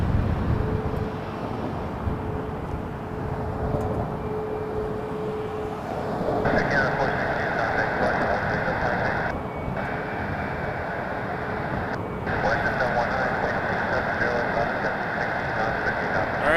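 A WestJet Boeing 737 MAX 8 bound for Vancouver runs its engines at Toronto airport with a steady broadband roar. A brighter engine whine swells in partway through, with brief dips as the sound carries on.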